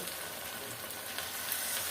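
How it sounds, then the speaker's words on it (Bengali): Cabbage pakoras deep-fry in hot oil, a dense, continuous crackling sizzle that stays close and even throughout with no voices. "অলরেডি পাকুড়া ভাজা শুরু করে দিয়েছি"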